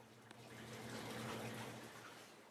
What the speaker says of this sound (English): The water drains from the tank to the hole in the floor, but when the self-leveling siphon is in use, it drains very slowly.